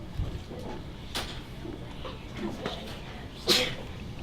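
A single sharp sneeze rings out in a classroom during a gas-law science demo, brief and fairly close, with quiet murmuring voices and shuffling around it.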